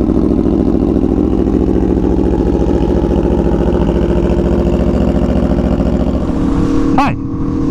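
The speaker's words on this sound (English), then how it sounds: "today's cold startup on the 2017 Aprilia Tuono V4 1100 factory" A 2017 Aprilia Tuono V4 1100 Factory fitted with an SC-Project CR-T exhaust idles loudly and steadily after a cold start, a deep even rumble that holds before cutting off abruptly near the end.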